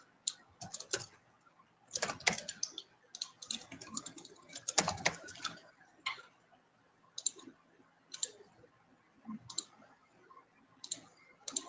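Keys clatter on a computer keyboard as a MySQL root password is entered, with irregular bursts of clicks and quick single taps spread across several seconds, close and fairly quiet.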